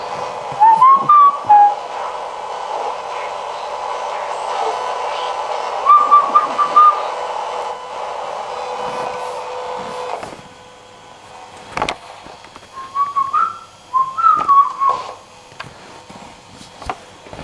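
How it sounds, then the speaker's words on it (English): A whistled tune of a few short rising and falling notes comes through a radio during a paranormal investigation in Staffordshire, heard in two brief bursts over a steady hiss and hum, separated by a quieter gap with faint noises. "That come through on the radio whistling?"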